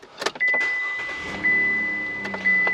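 A Chevrolet Colorado pickup's 3.6-litre V6 gasoline engine cranks and settles into a quiet, smooth idle while a repeating electronic chime sounds about once per second.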